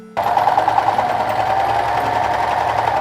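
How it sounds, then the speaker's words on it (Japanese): An overlock serger sewing machine runs steadily and loudly while stitching kimono fabric, a continuous fast whirring hum from start to finish after a brief quiet lead-in. "そしたらこれをロックミシンかけます。"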